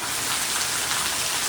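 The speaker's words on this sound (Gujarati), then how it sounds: "આ વરસાદ છે" Steady rain pours down outdoors over cattle pens and trees, a dense even hiss of falling drops with no breaks or voices.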